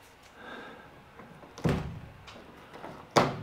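A metal roof vent door on a semi trailer handled during roof repairs, giving two sharp, fairly close thunks about a second and a half apart over a faint, quiet background.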